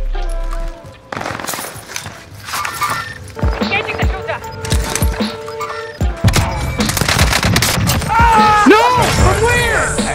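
Gunfire in Call of Duty Warzone on Rebirth Island: loud, sharp bursts of rapid automatic shots and single cracks, close and repeated throughout, with players talking over the shooting.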